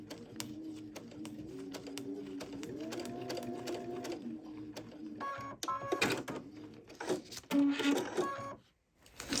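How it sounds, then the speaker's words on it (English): Sewing machine stitching a foundation-paper-pieced quilt block seam, running steadily near and moderately loud, then breaking into shorter stop-start bursts toward the end with no speech. "So see, I'm just sewing slightly to the outside of that line."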